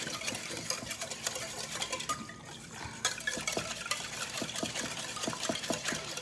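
A utensil stirs flake salt into water in a container to make a brine, giving a steady, close, rhythmic clinking and sloshing that keeps going with no talk.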